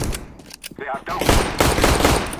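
Gunfire on Dust II in CS:GO: a few sharp scattered shots followed by a dense, loud automatic burst of rapid cracks, close and aggressive, with a short voice line in between.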